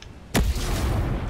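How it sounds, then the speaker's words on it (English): A grenade blows up in Ghost Recon Breakpoint during a base assault: one sharp, loud blast followed by a long rumbling tail, heard alone. "Ooh, grenade."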